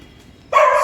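A stray dog on the streets behind a temple and dharamshala in Wazirabad, Nanded, barks once. The bark starts suddenly about halfway through, is loud and close, and sustains after a quiet opening.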